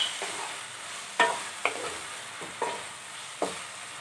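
Apple jaggery halwa with cashews and raisins being stirred in a pan, a few spaced scraping strokes over a soft, steady cooking hiss.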